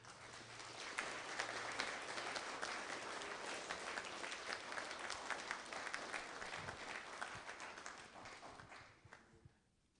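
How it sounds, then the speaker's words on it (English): Sustained audience applause at a spring graduation ceremony, a dense and steady wash of clapping that carries on for most of the stretch before tapering off near the end. "I want everyone in here to join in giving these"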